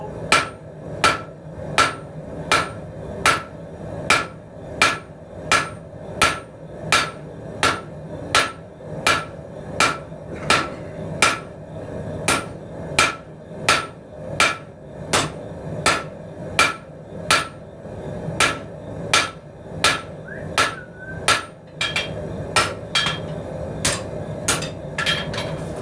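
Hammer forging an 18 mm 5160 steel round bar flat on an anvil: a long run of sharp, ringing metallic strikes in steady rhythm, close and loud, with brief pauses between blows.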